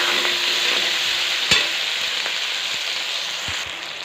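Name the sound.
onions frying and being stirred in oil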